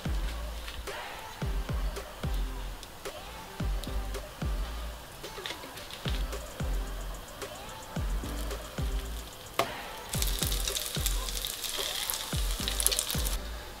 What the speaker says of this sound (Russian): дольку баклажанчика в яйце и отправляем жарить